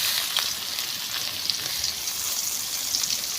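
Sliced onion sizzles in hot oil with nigella seeds, a dense, steady crackling hiss with scattered tiny pops, close up and continuous without talk.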